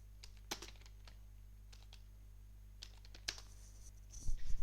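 Sparse computer keyboard keystrokes typing a short Windows command, a few isolated close clicks over a low steady hum, ending in a quick burst of keys.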